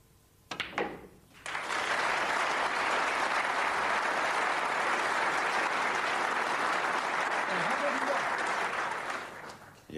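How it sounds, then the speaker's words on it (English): Sustained audience applause greets a century break at the 1992 World Snooker Championship second-round match between Jimmy White and Alain Robidoux, starting after a couple of knocks and holding steady for several seconds before fading, with no voices over it. "Wait for the applause on the century."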